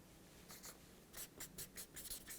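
A pen scratches across paper in quick, quiet bursts of short strokes, with pauses between words, and no one speaking.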